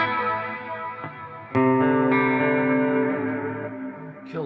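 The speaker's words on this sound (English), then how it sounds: "kill some of this reverb. It's a little bit too much." An Ibanez RG 570 electric guitar plays clean chords drenched in heavy reverb, each strum ringing out in long shimmering trails that overlap, with several distinct attacks across the passage.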